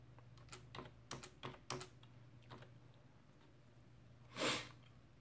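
A password is typed on a computer keyboard in a few quick bursts of soft key clicks, then a pause and a single breathy sniff or snort, all faint in a quiet room.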